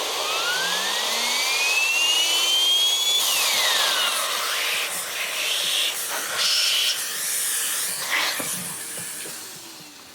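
Henry vacuum cleaner running at full power with its exhaust blowing debris out the top: a loud, steady roaring hiss with a rising then falling whine, continuous throughout and alone, with no talk.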